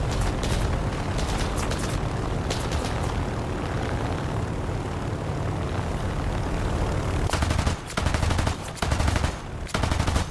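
Aircraft machine guns firing in War Thunder during a defense of Wake Island against Japanese bombers, a steady loud chatter of gunfire over engine drone, breaking into sharper separate bursts near the end.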